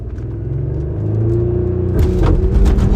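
A car with a stage 1 tune launches hard in a drag run, its engine rumbling loud and close, then revving sharply upward as it pulls away with a rising roar.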